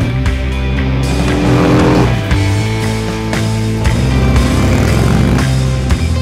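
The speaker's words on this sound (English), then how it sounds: "The all-new Milwaukee 8 engine, paired with a new suspension that delivers more comfort and control on every ride." A 2017 Harley-Davidson Milwaukee-Eight V-twin runs loud and close, with a deep throbbing rumble and rising and falling revs, steady throughout without speech.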